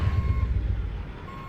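Truck reversing alarm in American Truck Simulator, steady electronic beeps over a low diesel engine rumble, close and fairly loud.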